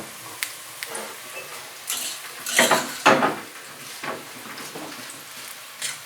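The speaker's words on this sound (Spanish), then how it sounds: "Y mientras vamos a ir dorando los pedacitos de tortilla" Pieces of tortilla browning in a pan over low heat for chilaquiles, with scattered clinks and scrapes of a utensil against the pan and a soft sizzle underneath, loudest in a short burst of stirring midway.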